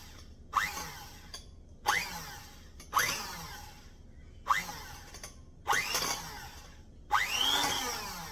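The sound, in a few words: small blender pulsing body butter mixture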